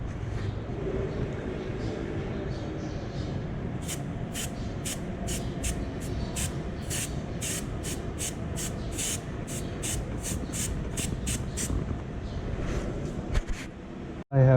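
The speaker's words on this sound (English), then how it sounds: "After 10 minutes, it's time to put on the clear coat." Clear coat is sprayed onto a touched-up bumper of a BMW 118i in a steady, continuous hiss that runs nearly unbroken, with rapid faint clicks partway through.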